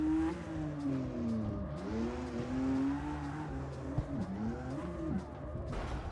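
A car drifts through curves in the CarX Street video game, engine revving up and down while tires squeal in wavering bursts, with a sharp skid toward the end.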